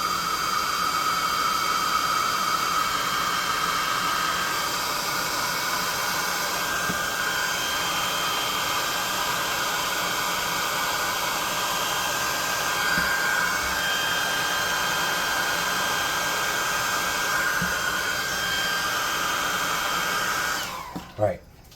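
A hot air gun blows steadily on glued tabletop miniatures, a loud continuous hiss and whine that holds unbroken for about twenty seconds before cutting off with a short clatter.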